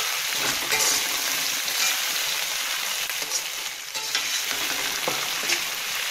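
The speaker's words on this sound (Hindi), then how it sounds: "1 पाव के करीब मैंने मटर लिए हैं, इनको 2 मिनट की भुनाई करूँगी।" Peas roasting in a pan for pea pulao, giving a steady, close sizzle with soft scraping stir strokes throughout and no talk.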